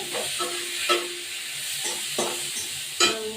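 Cauliflower, potato and tomato sizzling in hot oil with a steady hiss, punctuated by several scraping stirs of a spatula in the pan.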